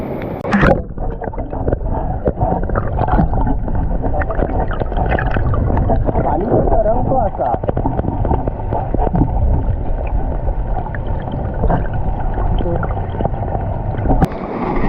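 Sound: heavy monsoon rain in the Konkan countryside

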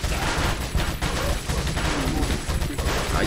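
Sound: gunshots in video game Resident Evil 4

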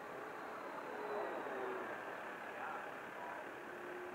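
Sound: Flightline F7F Tigercat RC plane flying a loop

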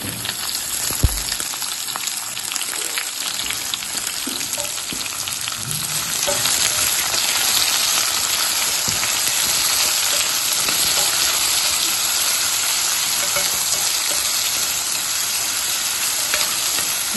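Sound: chopped small onion frying in hot pan

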